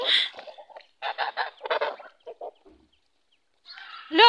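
A flock of geese honks in short, overlapping bursts, loud and close, with quiet pauses between the calls and a final loud honk at the end.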